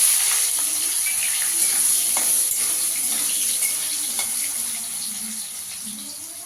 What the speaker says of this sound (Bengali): আলুটাকে আগে দিয়ে দেবো, আলুটা একটু ভেজে নেবো।